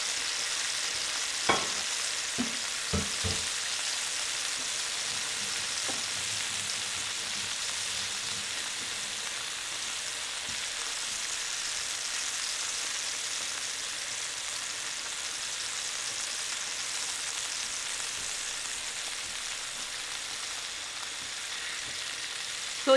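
Tuna pieces searing in a hot pan give a steady, close frying sizzle, with a few soft knocks and stirring sounds early on before settling into an even hiss.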